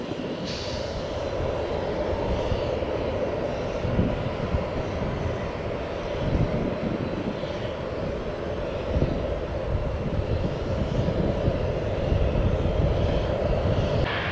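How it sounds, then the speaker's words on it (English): A Cessna 560 executive business jet passes at Tampa airport, its broad, steady engine roar holding strong and close for the whole stretch with no talking over it. "And yet another exec jet."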